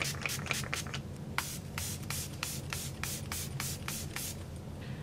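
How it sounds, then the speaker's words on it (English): Milani Make It Last setting spray is misted from a pump bottle in a string of about a dozen short, crisp spritzes in a steady rhythm, close to the microphone over a low steady hum. "over it I'm going to use the Milani Make It Last setting spray."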